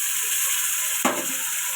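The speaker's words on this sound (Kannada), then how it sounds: "ವೆಜಿಟೇಬಲ್ಸ್ ಫುಲ್ಲು ಫ್ರೈ ಮಾಡೋಣ." Boiled vegetables frying in a pan for masala upma, a steady loud sizzle with a brief stirring scrape partway through, no talk.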